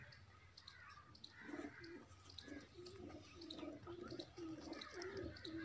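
Domestic flying pigeons from a home loft coo over and over in a steady, rolling rhythm, close and moderately loud, with faint chirps and background noise behind them.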